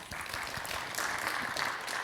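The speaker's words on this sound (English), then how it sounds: "Give yourself a little applause." Light applause from attendees of a technical class session at a trade show, a short patter of scattered hand claps at modest volume.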